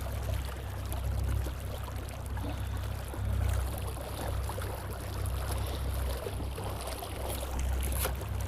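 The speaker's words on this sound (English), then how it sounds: "I only have one motor on today, obviously, because I'm by myself, but as you can see, we're moving along pretty good" A Pelican Bass Raider 10e boat moves across the water under a single motor, with a continuous low hum beneath steady splashing and rushing water along the hull. No one speaks.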